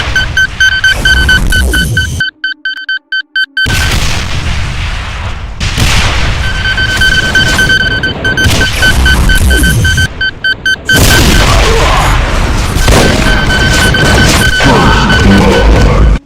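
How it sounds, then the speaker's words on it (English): Cyberdemon in a Doom mod firing dual volleys of spiraling homing rockets, heard as a loud, dense run of booming launches and blasts. They come in bursts with short gaps, and there is no talk. "And dual volleys of spiraling homing rockets, which do more damage than regular rockets."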